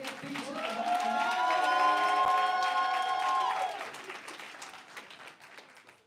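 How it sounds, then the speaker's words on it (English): A live poetry event audience applauds the performing artists, steady clapping and cheering swelling for a few seconds, with sustained musical tones underneath, then tapering off as the room quiets. "Y'all applaud the artists, applaud the artists."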